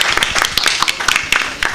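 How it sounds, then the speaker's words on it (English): Festival audience in a session hall applauding together, dense continuous clapping close and loud throughout. "Let's clap for the audience"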